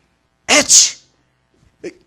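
A single loud, close sneeze erupts in a sharp two-part burst, followed by a brief faint sniff after a pause, in otherwise silent surroundings.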